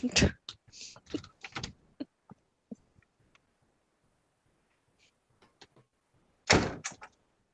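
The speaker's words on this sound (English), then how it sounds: "God, that door's loud." A loud door opens or closes with a sharp bang and rattle at the start, followed by scattered clicks and knocks, then a second loud burst near the end.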